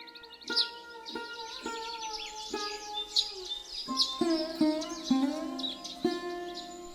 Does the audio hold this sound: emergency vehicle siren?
no